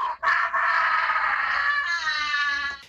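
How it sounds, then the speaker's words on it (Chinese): A woman sitting on the ground during a neighbours' quarrel lets out a long, loud, wavering scream that runs unbroken for nearly three seconds after a brief catch of breath. "干脆坐在地上放声尖叫。"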